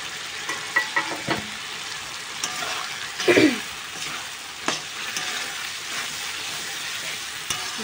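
Potatoes go into cooked-down masala in a pan for a cashew egg curry, with a low, quiet frying hiss broken by a few sharp stirring knocks and one louder scraping burst.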